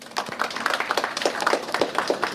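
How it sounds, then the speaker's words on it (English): An audience at an international disability and community inclusion symposium claps for a keynote speaker, a brief burst of scattered close hand claps that starts abruptly and stays fairly even. "Give a big applause to her."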